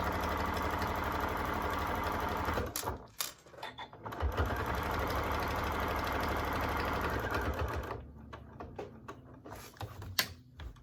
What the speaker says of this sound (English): I'm in a regular straight stitch sewing at this point